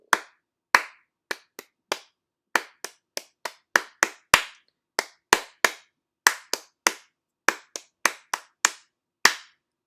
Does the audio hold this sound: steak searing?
no